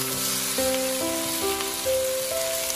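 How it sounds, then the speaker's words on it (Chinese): Cabbage stir-fried over high heat in hot oil in a wok, a steady loud hiss and sizzle like rain on a surface running throughout, with faint tonal hum of background music underneath. "油热之后把控干水分的包菜倒入锅中，咱们开大火先把包菜煸炒一下"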